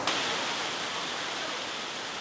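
Water at the Huangguoshu waterfall group tumbles over rounded rocks in a steady, loud, broad rush that fills the scene without a break.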